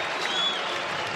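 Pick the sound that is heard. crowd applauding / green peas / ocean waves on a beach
crowd applauding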